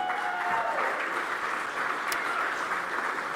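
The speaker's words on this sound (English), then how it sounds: "Big round of applause." An audience at a racing awards ceremony claps steadily as a hall fills with even, dense applause that holds from start to finish, with a brief tone at the opening.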